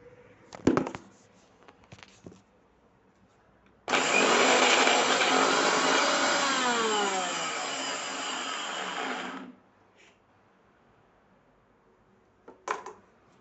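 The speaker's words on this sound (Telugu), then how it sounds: "వేసేసుకొని ఇప్పుడు మళ్ళీ మిక్సీ చేసుకుందాం." A kitchen mixer grinder whirs loudly for about five and a half seconds while blending soaked tamarind for chutney, then stops, with a few clinks and handling knocks before and after.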